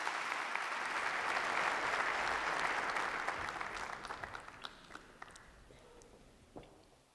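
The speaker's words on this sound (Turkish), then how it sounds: "Sanayi ve Teknoloji Bakanımız Sayın Mustafa Varank'ı alkışlar eşliğinde kürsüye davet ediyorum." Loud, dense applause at a science awards ceremony swells in the first seconds, then thins out into scattered individual claps and fades away, with no talk over it.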